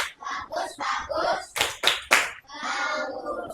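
Secondary students in a classroom shout a 'good' clap chant, with rhythmic bursts of clapping and chanted syllables in quick succession, close and lively.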